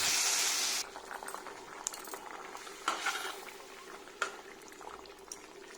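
A pan of curry with fish, potatoes and eggplant bubbles on the stove, opening with a loud sizzling hiss that settles into a quieter simmer, with occasional utensil clinks and scrapes against the pan.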